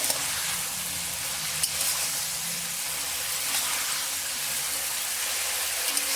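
Malabar spinach (pui shak) sizzles and fries quietly in a pan as it is stirred, a soft continuous hiss with faint scraping touches and no talking.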